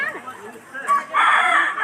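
Rooster crowing at a temple gathering where people carry chickens as offerings, a loud crow rising near the end over background voices and crowd chatter.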